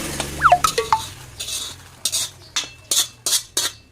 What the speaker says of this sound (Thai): เดี๋ยวเราก็จะไปเทใส่ครกนะ เทใส่ครกไป เทมาเลย